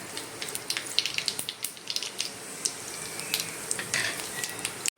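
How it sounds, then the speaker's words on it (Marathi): Whole spices sizzle and crackle in hot oil in a kadai while making mushroom masala. Crisp pops come in quick, irregular bursts over a soft steady fizz. "आता आपण कढईत तेल तापवून घेतले आणि त्याच्यात आपण हे खडे मसाले टाकतोय"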